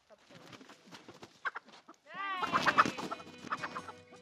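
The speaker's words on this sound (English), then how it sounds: "now come help us catch this chicken, Ollie." A backyard chicken clucks and squawks close by, loud and agitated bursts in the second half after quieter rustling and faint voices.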